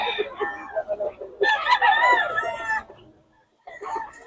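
Roosters and hens at a fowl sale in Bocaue crow and cluck up close, a loud drawn-out crow rising in the middle between choppier clucking calls, with a short pause before more crowing.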